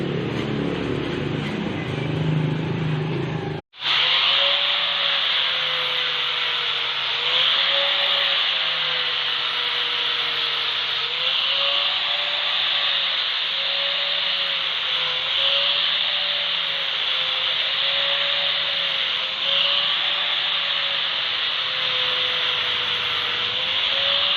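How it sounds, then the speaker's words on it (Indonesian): A putty-filled, still-rough kite frame is sanded, making a loud, continuous, close abrasive rasp with a steady underlying hum, broken only by one brief cut early on. "Saya akan amplas dulu."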